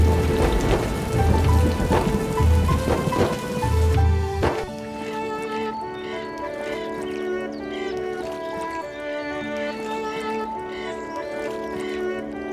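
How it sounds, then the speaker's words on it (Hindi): Heavy rain pours down for the first few seconds, then gives way to a sustained musical passage with layered tones. "रात को खूब बारिश हुई।"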